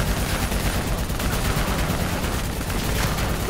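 Dense, continuous gunfire from automatic weapons aimed at a VTOL aircraft in Call of Duty Black Ops III, a loud sustained barrage of overlapping shots with no pauses and no talking.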